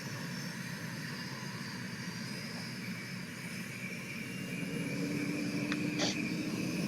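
A second aircraft engine starting in Roblox, humming steadily, then spooling up with a rising whine that grows slightly louder toward the end.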